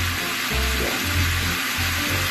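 Beef pieces for kalderetang baka sizzle and brown in a hot pan, a steady close crackling hiss with low bubbling pulses underneath, no voices.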